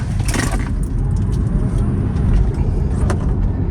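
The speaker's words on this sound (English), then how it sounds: "So we'll try to do a launch with track mode on and see how it does." A Tesla launching hard in track mode, heard from inside the cabin as a loud broadband rush of road and wind noise with a few sharp clicks and rattles, and no engine note.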